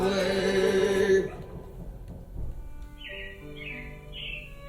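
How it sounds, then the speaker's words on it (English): Brief robin birdsong with a few short rising chirps near the end, faint, following a stretch of music that fades out, in the Carousel of Progress attraction at Magic Kingdom. "It looks like the Robins are getting ready to celebrate Valentine's Day today."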